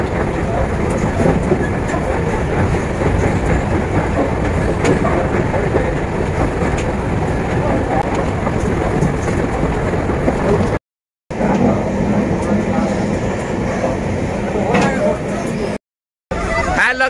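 A train runs along rails on a journey through Northeast India, giving a loud, steady rumble with rattling carriage noise close by for the whole stretch, broken by two very brief silent gaps.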